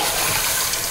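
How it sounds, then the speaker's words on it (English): Water poured from a bowl onto rinsed rice in a pot, a brief, loud, steady gush that fills the whole moment with no voices. "you want to fill the bowl that you rinsed the rice with to add water to the whole thing"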